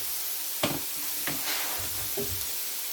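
Pork browning in a pan gives a steady close sizzle throughout, with a few sharper pops and crackles and faint stirring scrapes underneath.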